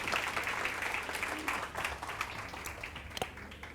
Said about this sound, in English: please warmly give all my panelists a warm round of applause as they make their way up to the stage